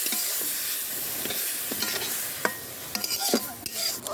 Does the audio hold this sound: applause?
no